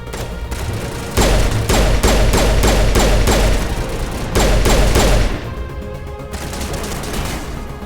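Loud, close bursts of rapid automatic gunfire from a Mass Effect firefight hammer out in two long volleys, with a brief lull between them and quieter combat noise after.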